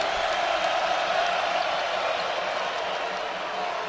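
Basketball arena crowd at an Arkansas versus Texas game roaring in a steady, dense wash of cheering and applause, loud and continuous throughout with no break.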